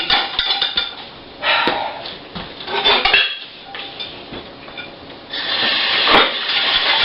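Dishes, pots and cutlery clatter and knock at a kitchen sink as they are scrubbed, in irregular close clinks and scrapes with short pauses and no talking.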